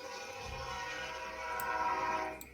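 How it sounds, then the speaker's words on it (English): A video game train passes with a sustained, harmonic horn-like tone over a low rumble, steady and fairly close, swelling slightly before fading out. "That's the train for going over there"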